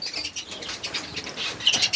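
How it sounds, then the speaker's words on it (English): Yellow greenfinch in an aviary giving bright repeated chirps along with soft wing flaps, close and fairly quiet, with no talking. "yellow greenfinch."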